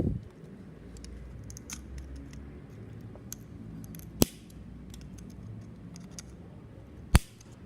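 Cutters snipping an extra component lead while building a handheld electronics kit, with two sharp isolated clicks over a quiet room hum, close and brief.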